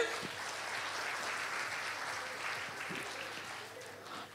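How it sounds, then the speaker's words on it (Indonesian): Steady applause from an audience at an Indonesian talk event, a dense continuous clatter of hands holding at an even level throughout with no voices over it. "Tepuk tangan sekali lagi untuk Anda semuanya."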